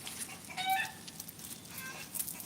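A hen clucking softly at a distance, a few short harmonic clucks and a brief rising call standing out over a quiet, noisy background with no talk.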